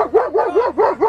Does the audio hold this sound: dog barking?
yes